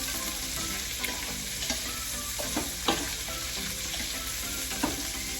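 Ingredients, including carrots, are mixed in a frying pan with a continuous sizzle and soft, irregular scraping and clacking of the utensil close by.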